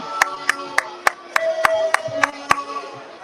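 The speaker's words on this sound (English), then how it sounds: "As you hear it from the crowd, the air ball chants." At an ABA basketball game, the crowd chants "air ball" in a steady rhythm, with about ten sharp, evenly spaced claps punctuating the chant.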